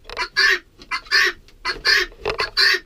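Guinea fowl kept as poultry calling nearby, a loud, harsh rhythmic series of repeated two-part squawking cries with short pauses between them, alone with no talk.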